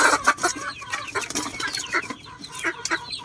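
Chickens on a backyard farm clucking busily and close by in a dense, overlapping chorus with quick rhythmic calls, hungry and waiting to be fed.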